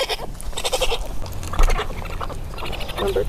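Young raccoon kits cry out for their mother in a mix of shrill, bleating chirps and squeals, close and overlapping, with uneven bursts throughout and some low background rumble.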